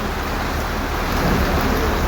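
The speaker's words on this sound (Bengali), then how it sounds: "অঝোরে বৃষ্টি।" Heavy monsoon rain pours steadily in the Sundarbans near Gosaba, a dense, unbroken roar of drops with low rumbling beneath, loud and close throughout with no voices.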